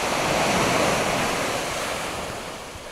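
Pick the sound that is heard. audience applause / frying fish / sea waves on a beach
sea waves on a beach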